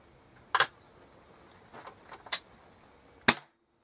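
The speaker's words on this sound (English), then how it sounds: "There you go, 5 shots" Air rifle shots at a target, three sharp close cracks spaced about a second apart, with a few faint clicks in the quiet between them.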